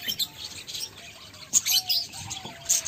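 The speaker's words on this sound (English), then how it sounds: "Enjoy nyo po yung chirping ng birds, nakaka-relax po." Small birds chirp and tweet in quick, high bursts, with a thin whistled note drifting underneath against a quiet outdoor background on a farm in the UAE.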